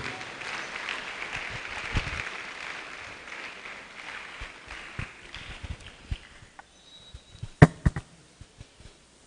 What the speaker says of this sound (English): please let's keep clapping as he makes his way